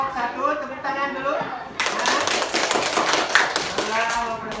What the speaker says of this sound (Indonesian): Kasih kepada kelompok 1, tepuk tangan dulu.